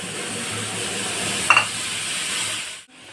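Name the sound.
masala spices frying in a pan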